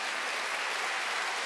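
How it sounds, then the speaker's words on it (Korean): A congregation applauds during a Korean Sunday church service, a steady, even wash of many hands clapping together at moderate volume, with no speech over it. "박수 하나 더 주세요"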